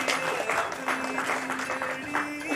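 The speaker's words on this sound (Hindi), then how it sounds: "आपके तालियों की गूंज से पता चलता है" Audience applause at a Women's Day celebration event, a steady wash of clapping from a crowd throughout, with a voice speaking over it.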